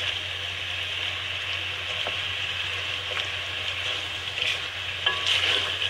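Whole garam masala fries in hot oil: black cardamom, cinnamon sticks, bay leaf, black peppercorns and cloves, giving a steady close sizzle with light stirring scrapes and no talk.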